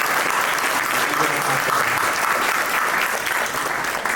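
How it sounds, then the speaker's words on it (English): Applause rises from an audience at an industry conference for a departing board member, a loud, sustained and even wash of many hands clapping, with no talk over it. "Give her a round of applause."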